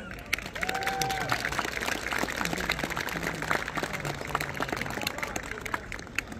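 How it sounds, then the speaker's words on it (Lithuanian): Scattered clapping from an audience at an international folklore festival concert in Kaunas, moderately loud and sustained, with faint crowd murmur and a brief vocal tone near the beginning. "Sutinkam šiltais plojimais."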